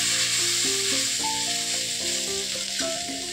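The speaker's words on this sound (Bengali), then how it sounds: "এই যে ডিম ভেজে নিচ্ছি" An egg frying in a pan sends out a steady, close, bright sizzle that holds throughout, with musical tones playing over it and no voices.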